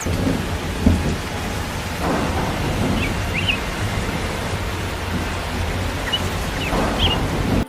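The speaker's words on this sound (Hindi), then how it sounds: "ये बड़ी बारिश है और ये वो तूफान है जो तबाही ला सकती है।" Heavy rain hisses steadily in a thunderstorm while low thunder rumbles in several swells, loud and close, with no voices.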